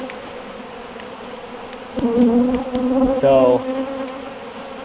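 Honey bees buzzing steadily around horizontal beehives with loaded frames, a dense close insect drone that swells louder midway, with a brief word of speech.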